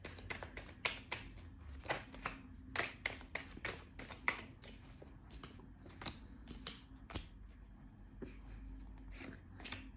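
Tarot cards are shuffled and drawn up close, with a quick run of crisp slaps and flicks in an uneven rhythm, quiet, and with no talking.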